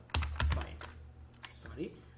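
Keys on a computer keyboard are pressed for the Ctrl+F find shortcut in Excel: a few quick, close clicks, with a voice talking alongside.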